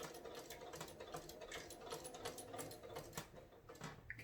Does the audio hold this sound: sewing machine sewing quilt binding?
yes